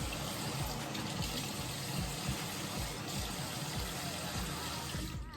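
Tap water runs steadily into a sink while a skincare product is being mixed, a constant close hiss and splash that fills the clip and cuts off at the end, with no voices.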